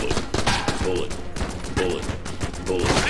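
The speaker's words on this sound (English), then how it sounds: "Keep on shooting." Rapid gunfire bursts from the video game Enter the Gungeon, loud and continuous with repeated shot volleys, over game sounds and background voice.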